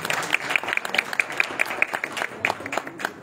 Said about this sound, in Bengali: এই মুহূর্তে একটা জোরে করতালি প্রত্যাশা করছি